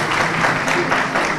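Audience applause fills a hall during an academic ceremony where professors are called to the stage for a gown presentation, a dense, loud, continuous wash of many hands clapping.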